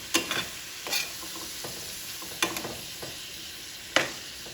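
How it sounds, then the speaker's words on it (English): Tomato sauce with turkey sausage cooks in a pan for spaghetti, giving a soft, steady sizzle broken by a few sharp scrapes and clacks of a utensil stirring against the pan. "Let the sauce simmer a little bit."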